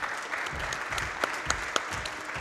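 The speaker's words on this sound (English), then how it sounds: "Your knitting deserves a big round of applause." An audience claps at a speedrunning marathon event, a steady patter of many hands with a few sharper individual claps, moderately distant and fairly quiet.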